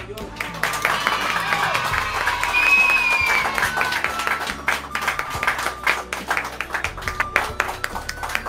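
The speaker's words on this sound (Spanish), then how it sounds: "Otro aplauso así." A crowd applauds steadily for a music teacher in Guatemala, dense clapping filling several seconds with some voices mixed in.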